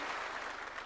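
Steady broadband clapping from an assembled audience of chiefs at State House, applauding the interior minister Murkomen and his team; continuous and fairly even with no gaps, heard alone without talk.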